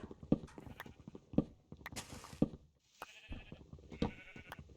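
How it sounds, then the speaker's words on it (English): Repeated soft crunching and thumping bursts at a steady pace as a Minecraft sheep eats grass, with a brief hissing rustle and a bleat-like tone, all fairly close. "The sound of grass or blocks breaking, by the way, that's not us. That's the sheep eating the grass."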